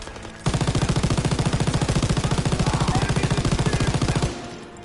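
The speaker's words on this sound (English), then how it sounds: "Now we have MG42s." An MG42 machine gun in Call of Duty WWII rattles off a long, rapid, evenly paced burst of loud, close shots that runs nearly four seconds before cutting off.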